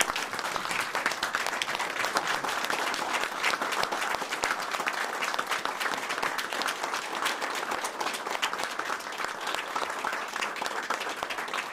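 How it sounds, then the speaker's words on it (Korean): A crowd at a COVID-19 response meeting applauds doctors, nurses and nurse aides with sustained, even clapping from many hands. It stays fairly distant and moderate in level throughout, with no talk over it. "모두 큰 박수 부탁드리겠습니다"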